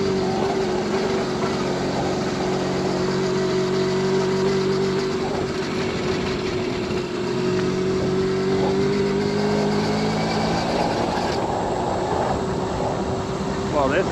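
A 1979 Honda Express moped ridden along a road, its small engine droning steadily at a fairly constant pitch, near and continuous, with a slight change in tone partway through.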